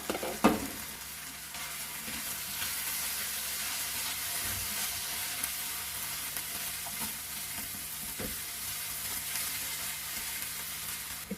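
Softened tomatoes for a Kerala-style prawns roast are stirred in a frying pan. A quiet, continuous sizzle carries occasional faint scrapes and taps.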